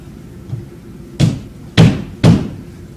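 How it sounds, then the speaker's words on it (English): A locked door being tried, three loud, close knocks or thumps that grow stronger and rattle briefly, after a faint bump, with no voices over them. "The door's locked."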